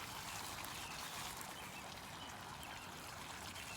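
Small radio-controlled jetski circling in spirals on open water, giving a steady broadband wash and churn of water with no clear motor whine, continuous and fairly quiet throughout.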